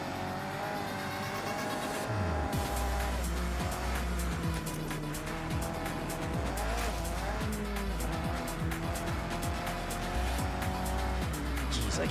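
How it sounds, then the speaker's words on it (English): Opponent race cars in Forza Horizon 6 roar alongside at full throttle with engine notes rising and falling through gear changes, tires squealing and skidding, loud and close throughout. "I can hear the opponent cars like right beside me"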